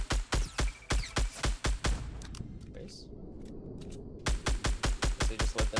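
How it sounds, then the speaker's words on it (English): Gunshots from a sniper rifle and a SCAR assault rifle in the video game Fortnite, rapid loud rhythmic bursts of sharp cracks, a short pause with a single heavier shot, then another quick burst. "Shot him with a sniper and tagged him with my scar"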